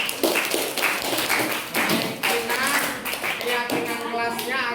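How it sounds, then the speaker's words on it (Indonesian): Classroom group clapping in lively, uneven bursts of hand claps and taps, with voices talking over it throughout. "Wah, ini tepuk tangan luar biasa."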